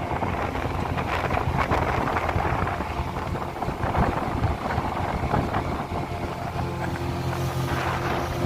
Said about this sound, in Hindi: तो यहाँ पे इतनी तेज़ हवा चल रही थी ना